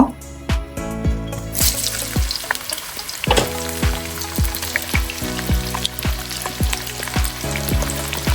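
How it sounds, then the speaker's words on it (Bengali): Onions sizzle and fry in hot oil for meat bhuna khichuri, with a steady crackling hiss broken by repeated sharp scraping strokes of a spatula against the pot, all close and loud with no talk. "পেঁয়াজ দিয়ে দিব,"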